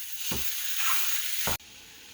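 Pork sausage fries in a pan with a steady, continuous sizzle, broken briefly by two low thuds of a utensil stirring, close and loud with no voices.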